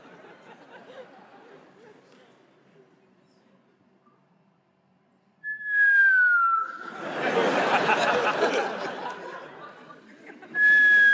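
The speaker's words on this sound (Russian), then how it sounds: "я просто какой-то сейчас свист слышала" A sharp, high whistle sounds twice during a Comedy Club stage sketch, a short clear tone and then another near the end. Audience laughter and chatter fill the gap between them.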